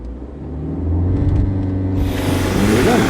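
A 2017 BMW 530i with a turbocharged four-cylinder engine holds near 3,000 RPM, then launches and pulls hard, a loud close engine rumble that rises steadily with no talking.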